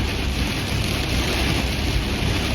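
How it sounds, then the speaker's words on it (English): Strong wind and heavy rain batter a vehicle driving through a storm near Elk Point, a loud, constant rushing roar with no voices. "And some heavier wind."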